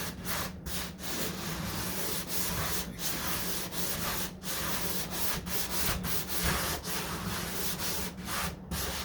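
Steady hand rubbing across the fibreglass hood bodywork of a 1969 Corvette C3, a continuous close scratchy swishing with slight rhythmic strokes, alone without talk.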